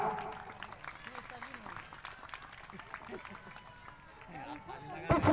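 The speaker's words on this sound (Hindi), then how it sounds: "इनके लिए जोरदार तालियां।" Spectators at a cricket match clap and cheer for a batsman's shot, a steady wash of applause and crowd babble that swells loudly at the very end.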